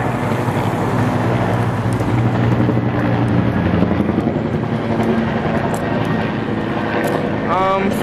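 A helicopter flies overhead during a street walk through Kugayama, Tokyo, a steady loud rotor drone blended with wind noise through the whole stretch, with talk over it.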